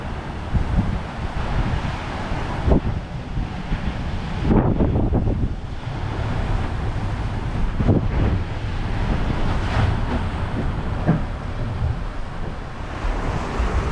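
Strong wind of about 20 knots buffets a sailboat moving at speed off the coast of Brazil, a continuous loud roar of gusts with rushing water and occasional thumps from the hull, no voices.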